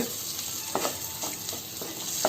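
Egg frying in a pan for a fenugreek curry, a steady soft sizzle with a few light stirring scrapes, heard close and alone.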